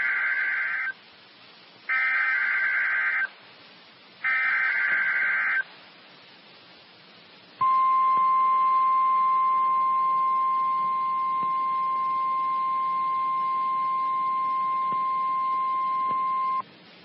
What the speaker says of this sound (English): The preceding was a test of the National Weather Service warning alarm tone.